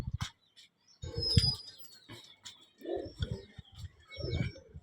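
Released pigeons burst into wing flaps and coos outdoors, bursts of flapping and low cooing calls coming in several clusters, fairly close.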